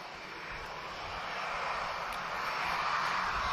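A Boeing 737 airliner at Lisbon Airport gives a broad, steady jet engine roar that slowly swells louder, heard from a distance with no voices.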